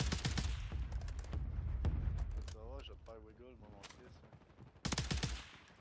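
Bursts of rapid automatic gunfire in the video game Warzone 3 on Rebirth Island, loud and close, with a quieter stretch in the middle where someone talks.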